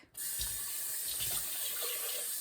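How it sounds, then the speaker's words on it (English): Water runs steadily from a faucet into a sink to rinse a blender, a continuous close hiss and splash after a brief quiet start. "So I'm going to put it under the sink."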